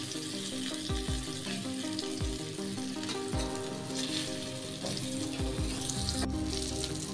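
Halwa fish and prawns frying in hot oil, a constant crackling sizzle with repeated low thumps and scrapes as pieces are moved and flipped in the pan.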